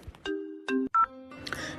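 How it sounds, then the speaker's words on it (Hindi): A mobile phone rings indoors with a loud electronic ringtone made of stacked tonal beeps in short bursts, followed by a brief noisy rustle as it is picked up. "किसका फोन है?"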